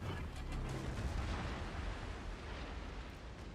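A battleship fires high-explosive shells in World of Warships Legends, heard as a continuous low rumbling boom with mechanical noise, steady and fairly quiet throughout, with no talking.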